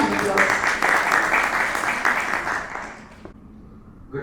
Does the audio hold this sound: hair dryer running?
no